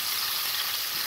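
Garlic dropped into hot cooking oil gives a loud, steady hiss and sizzle, close by and unbroken, with no speech.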